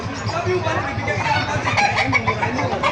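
White Kelso gamefowl cluck amid the busy din of a market in Bocaue, with people talking nearby and other birds in the background.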